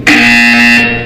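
Buzzer sounding in the video game Portal 2: one loud, steady electronic buzz of about a second with a sharp onset, heard alone.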